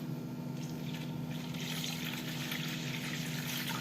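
Water steadily trickling and pouring into a pot or bowl while making Moroccan crêpes with salt and semolina, a continuous close liquid flow with no talking.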